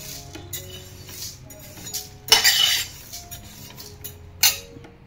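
Moong dal roasting in a pan, a metal spoon scraping and clinking against the pan in irregular strokes, with a couple of louder sharp scrapes and faint dry rustle between them, close and alone.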